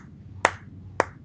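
Two slow, widely spaced claps ring out with a clear gap between them, alone and fairly close, over a faint background hum.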